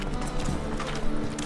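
A horse's hooves clip-clop at a quick, steady pace while it is ridden in The Witcher 3: Wild Hunt, close and loud over dense outdoor game ambience.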